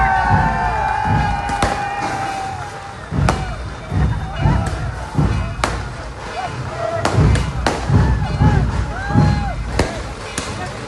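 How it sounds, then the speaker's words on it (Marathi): Firecrackers and a dhol drum troupe sound at a Ganesh idol procession in a residential colony in Akola, with loud sharp bangs and booms recurring irregularly over crowd noise and chatter. "फटाक्यांच्या आतिषबाजीने आणि योद्धा ढोल पथक अकोलाच्या वादनाने संपूर्ण सुधीर कॉलनी दुमदुमली"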